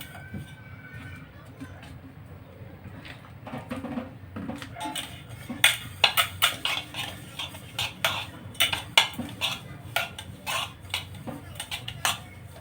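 Oil is rubbed around the inside of a pot to grease it for a steamed sponge cake, producing irregular light scraping, tapping and metallic clinks that grow busier partway through, close by with faint background noise.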